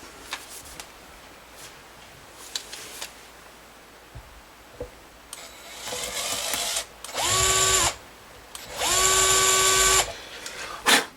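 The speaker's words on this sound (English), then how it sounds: "Step up to a little bigger bit." Power drill boring into an Epiphone SG guitar body with a larger bit, after a few soft clicks: several close whirring bursts rising and falling in pitch as the drill spins up and slows down.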